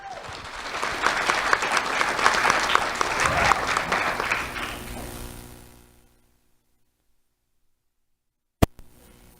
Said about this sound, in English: Let's have a round of applause for Makai Brooks.